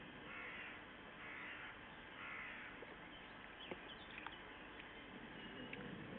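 Steady outdoor ambience of a flowing river, with scattered bird calls and a few crow-like caws rising over the background.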